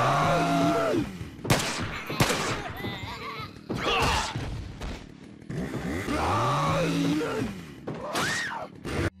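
Gunshots crack in bursts during Resident Evil 4 gameplay with the Life in Hell mod, mixed into a dense, loud game soundscape with a roaring chainsaw-like drone and clashing effects.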